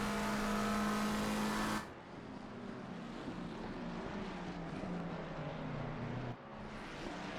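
Race car engines howling around Suzuka in a sim racing game, a loud high whine for the first two seconds, then a quieter mix of engine drone and road rumble as cars run on.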